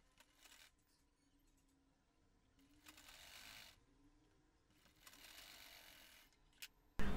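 A sewing machine stitches gota patti lace onto a sleeve in short, soft whirring bursts separated by pauses, faint and close, ending with a sharp loud knock.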